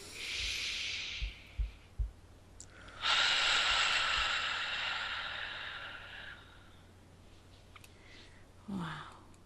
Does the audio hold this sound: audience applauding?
no